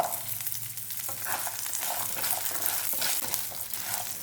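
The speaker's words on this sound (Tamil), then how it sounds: "வெங்காயம் நல்லா சாஃப்டாக ஆற வரைக்கும் நல்லா வதக்கிக்கலாம்." Shallots and garlic sautéing in a pan for radish chutney give a steady close-up sizzle with soft stirring scrapes, continuous and moderately loud throughout.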